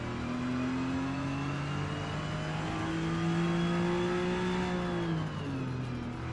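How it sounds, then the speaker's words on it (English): Air-cooled Porsche 911 flat-six in a racing video game revs steadily and loudly, pitch climbing through a long gear before dropping at a shift near the end, with no talk over it. "this sounds like a nice air-cooled 911 engine should"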